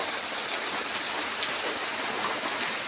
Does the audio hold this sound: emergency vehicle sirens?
no